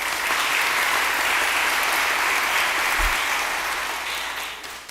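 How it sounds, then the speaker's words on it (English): Sustained round of applause from a large graduation ceremony audience at a college hooding event, dense steady clapping that fills the room and tapers slightly at the end. "We'll give them a round of applause."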